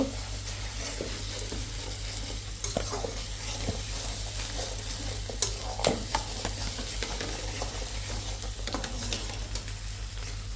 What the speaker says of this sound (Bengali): এই তো হাঁসের মাংস রান্না করতেছি